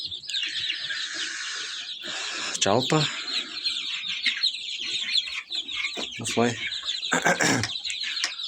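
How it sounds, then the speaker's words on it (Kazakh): Chicks peep in a high, continuous chorus while adult hens cluck in loud bursts nearby, and someone speaks briefly over the birds. "балапандар өсіп жатыр."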